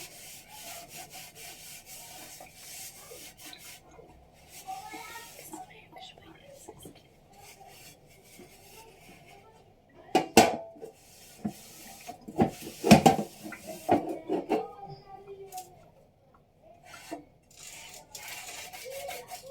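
Dishes are washed with a Green Way dish towel and plain water, then dried, giving soft rubbing and wiping with louder scrubbing and clattering bursts in the middle.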